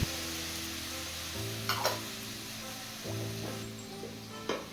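Cumin paste, ginger-chili paste and tomato paste sizzle steadily in a hot pan, a loud continuous hiss with a few brief scraping stirs, close by and without talk.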